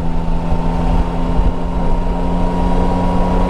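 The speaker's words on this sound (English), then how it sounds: "Now listen to the induction here." A steady Yamaha Tracer 9 GT motorcycle engine drone with a low, throaty induction hum holds constant throughout, loud and close, with no talking.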